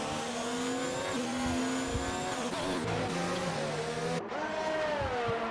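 Formula 1 cars in F1 2019 racing in wet conditions on the USA GP circuit, a steady high engine whine with shifting pitch as cars lift and accelerate, loud and continuous with a gear change near the end.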